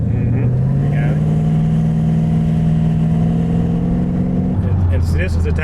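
A modified 800-horsepower 2013 Chevy Camaro ZL1 drives on a street, its engine droning loud and steady, then dropping in pitch as it shifts gear near the end, with a voice under the engine.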